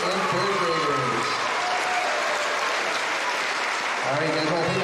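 An elementary school audience at a Veterans Day program applauds its second and third graders, a steady, dense wash of clapping filling the hall throughout, with some voices murmuring underneath.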